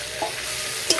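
Browned onions with ginger-garlic paste, slit green chillies, chopped tomato and coriander leaves being stirred in a pan for a sour-spicy fish curry, a short, close burst of dense sizzle with a couple of spatula scrapes.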